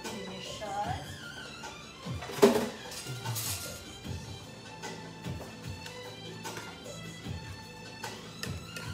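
Garlic and salad ingredients being mixed in a bowl, with soft clinks and scraping of utensils against the dish, a sharper knock near the middle, and light kitchen clatter throughout.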